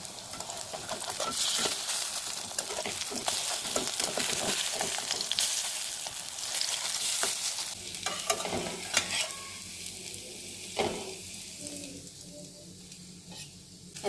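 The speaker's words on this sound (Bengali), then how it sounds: "কড়াইতে সর্ষের তেল গরম হয়ে গেছে, এবার আমি অল্প তেলে এইভাবে করে ভাজছি একটা করে।" Gime shaak fritters fry one at a time in hot mustard oil in a wok, giving a close, continuous sizzle with scraping stir sounds and a few sharp clinks of a utensil against the pan.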